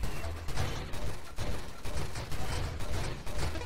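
The Warpath perk in the space shooter Nova Drift fires a rapid, dense stream of shots, a steady volley of crackling bursts that runs continuously through the whole stretch.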